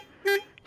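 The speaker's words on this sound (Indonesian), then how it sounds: "Klaksonnya aneh banget." A Benelli Patagonian Eagle Motobi 250 motorcycle's horn gives one short, thin, odd-sounding toot up close, followed by faint clicks and a brief burst of noise.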